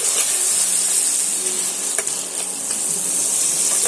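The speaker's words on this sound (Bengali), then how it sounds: "টমেটো আর কাঁচা লঙ্কা আবারও মশলার সঙ্গে আমি সুন্দর করে কষিয়ে নিচ্ছি" Chopped tomatoes and green chilies sizzling with spices in a pan, a steady close hiss of frying that runs unbroken from start to end with a faint clink partway through.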